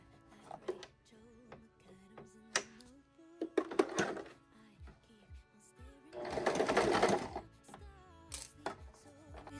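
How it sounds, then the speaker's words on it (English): A sewing machine runs a zigzag stitch on a 2 mm stitch length to hem elastic into baseball pants, giving short, close whirring bursts with one longer run of stitching, while a person talks. "I'm just going to do a zigzag stitch up and down, maybe like 4 times. On like a 2 millimeter stitch."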